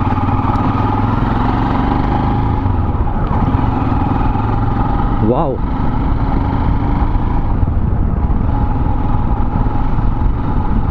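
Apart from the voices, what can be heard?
Royal Enfield Himalayan motorcycle engine running after first service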